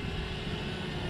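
A DJI Mavic Mini drone flies and tilts sideways in a roll manoeuvre, giving a steady, dense whirring buzz of small propellers that holds at an even level throughout the short stretch, with no talking.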